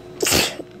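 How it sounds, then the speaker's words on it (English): A single sharp human sneeze, loud and close, with a quick intake of breath before the burst and no talk around it. "Sorry about that, I'm having sneezing issues lately."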